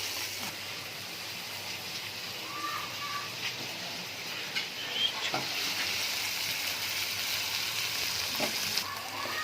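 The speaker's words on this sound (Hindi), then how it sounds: "इसको हम तकरीबन 10 मिनट तक हम इसकी बुनाई करेंगे अच्छी तरह से" Ginger paste and spices sizzle and roast in a pan while being cooked down for a keema dish, a continuous frying hiss with occasional stirring scrapes, close and steady with no voices.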